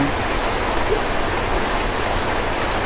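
Steady monsoon rain pours on a house, a constant dense hiss of drops with no pauses, close and fairly loud throughout with no voices.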